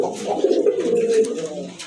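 A large male pigeon with a broad tail gives a close, loud, rolling coo lasting nearly two seconds, a throaty warble that rises and fades with nothing else over it.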